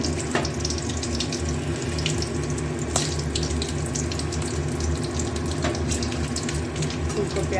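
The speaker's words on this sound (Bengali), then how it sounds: "তেল দিয়ে দিয়েছি, তেলের মধ্যে দেবো 2 কাঁচা লঙ্কা, লাল রঙের কাঁচা লঙ্কাগুলো খুব সুন্দর গন্ধ হয়। আর দেবো একটু কালো জিরে," Green chillies and nigella seeds sizzle steadily in hot oil, a continuous close crackling hiss with faint talk underneath.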